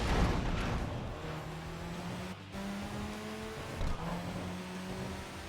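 A race car in a driving video game circles steadily, its engine a continuous low hum with gentle rises and dips in revs, fairly quiet and with no talk over it.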